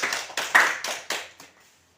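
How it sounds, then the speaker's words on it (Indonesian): Classroom group applauding a short burst of about six clap bursts from several hands in quick succession, fading out by the end, close and without talk. "Berikan tepuk tangan untuk kelompok"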